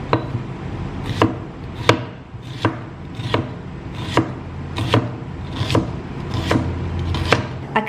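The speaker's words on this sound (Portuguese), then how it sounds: "Vou cortar bastante, umas 3 cabeças" A knife chops through three heads of garlic on a board in a home kitchen, giving crisp, evenly spaced strikes about every second, close and clear with no talking.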